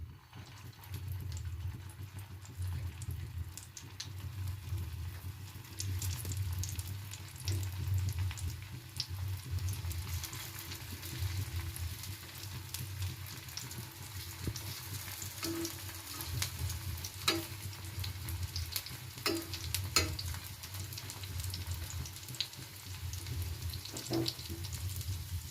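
A snack of wheat flour, gram flour and potato fries in hot oil, a steady close sizzle and bubbling with occasional sharper pops and faint utensil clinks, no talk.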